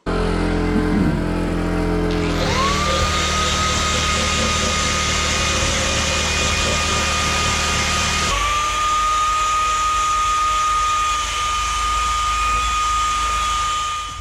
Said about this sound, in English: So I'll use a saw, that little oscillating tool, and clean that up nice.